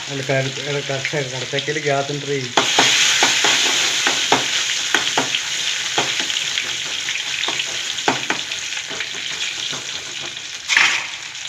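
Mustard seeds, garlic and shallots hit hot oil in a pan and sizzle loudly and continuously, with scattered pops and crackles and a few stirring clicks; a brief voice is heard at the start before the frying takes over.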